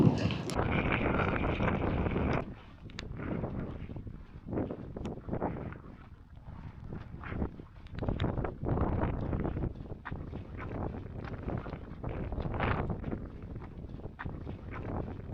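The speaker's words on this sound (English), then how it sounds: "The wind has calmed down a bit where I am" Wind on an exposed mountain hillside gusts across the microphone in uneven, roaring bursts that rise and fall, loud at first and then coming in repeated buffets over about fifteen seconds.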